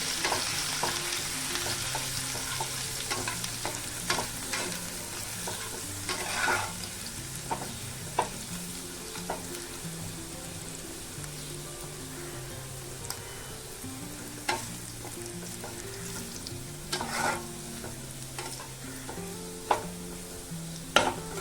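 Chopped garlic fries in hot oil in a pan for a Bengali dish with taro stolons and prawns, a long, soft, continuous sizzle with occasional spoon scrapes and light taps throughout.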